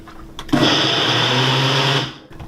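Countertop blender mixing creamy cucumber dressing, a loud steady motor whir lasting about a second and a half before winding down.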